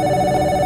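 A telephone rings in a Five Nights at Freddy's fan video game, a loud, steady electronic ring that runs continuously without a break.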